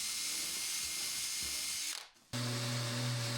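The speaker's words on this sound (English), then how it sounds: "But there I was just countersinking, pre-drilling the holes, countersinking for the screws." Power drill pre-drilling and countersinking screw holes in wood, a close, loud whine that cuts off briefly near the middle and then resumes at a steadier pitch, with no talk.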